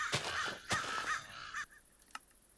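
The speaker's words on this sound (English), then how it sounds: "How do I turn down the bird sounds?" Crows cawing in Minecraft, the MC Eternal modpack: several loud, harsh caws close together in the first second and a half, then quieter background with one short click.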